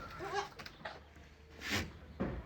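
Goats bleating on a goat farm, several short wavering bleats spread across the moment, some nearer and louder, over faint farmyard background noise with no talk.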